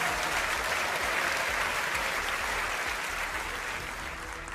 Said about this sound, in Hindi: तालियों के साथ गीता का भी बहुत बहुत स्वागत